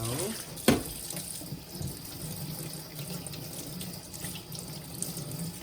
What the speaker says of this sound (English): All the vegetables need to be washed.